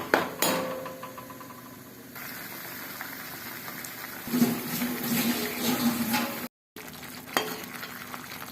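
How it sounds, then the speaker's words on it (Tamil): A pan of tamarind water boils on high heat, bubbling and sizzling steadily at close range, with occasional clinks and stirring noises over the continuous boil. "புளித்தண்ணி ஹையில் வச்சு நல்லா கொதிக்க விடணும்."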